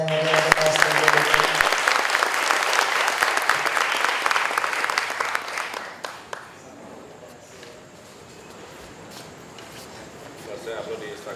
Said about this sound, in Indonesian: Boleh minta tepuk tangannya yang mau kaos LPDP.